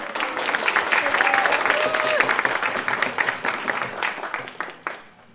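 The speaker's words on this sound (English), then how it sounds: "Round of applause for..." A crowd applauds steadily, dense clapping and some cheering that carries on for several seconds, then tapers off at the end.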